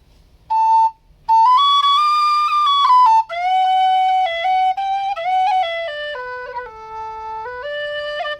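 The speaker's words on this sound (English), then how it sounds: "This is a low whistle" A low whistle plays a flowing melody of sustained, descending notes, close and clear, with a short pause near the start and no voices.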